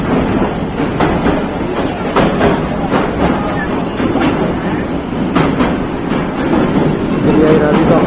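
A Pakistan Railways train crosses the 40 Down Jaffar Express near Badami Bagh, Lahore, with loud close rumbling and repeated clickety-clack wheel beats over rail joints, mixed with rushing wind noise.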